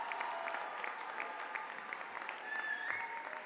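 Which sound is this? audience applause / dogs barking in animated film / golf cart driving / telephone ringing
audience applause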